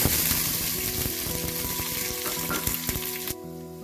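Cardamom, cloves and cinnamon dropped into hot oil crackle and sizzle loudly up close, with busy popping throughout that cuts off abruptly near the end.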